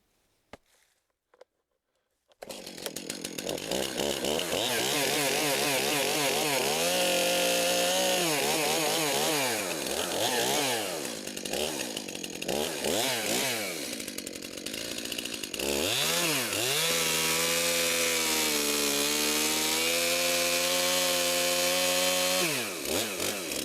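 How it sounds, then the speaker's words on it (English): A chainsaw cutting fallen cherry trees into firewood rounds starts up after a moment of quiet, then roars loud and close without a break, its pitch sagging and recovering as the chain bites into the wood. "we're going to get these cut into rounds and hauled back up to the splitter and get the split. And so let's get cutting"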